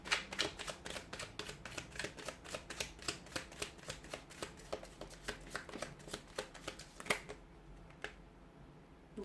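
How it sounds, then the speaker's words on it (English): Tarot cards being shuffled by hand in a quiet room, a steady run of crisp riffling snaps and paper flutters that thins out near the end, with no voices. "I'll go ahead and give the cards a shuffle"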